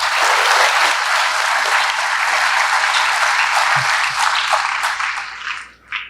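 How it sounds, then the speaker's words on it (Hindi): A school audience at Krishna Public School in Raipur applauds student performers at a Kargil Vijay Diwas event; loud, dense clapping holds steady for several seconds, then tapers off into a few last claps. "तो उनके लिए एक बार जोरदार तालियां"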